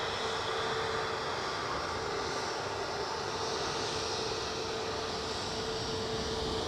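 An airplane at Edinburgh Airport drones with a steady, broad engine roar and a faint whine, continuous and fairly distant, with no voices.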